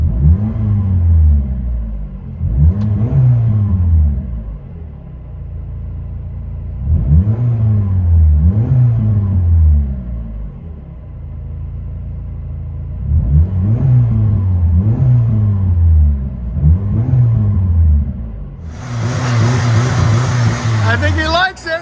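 Dual-exhaust PT Cruiser engine revving from inside the cabin, a series of rising and falling revs in short bursts with pauses between, loud and close, ending in a louder rough burst of noise.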